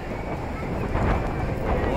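Strong seaside wind at the Bang Pu resort roars continuously into the microphone, a loud, dense rumble that builds slightly and never lets up.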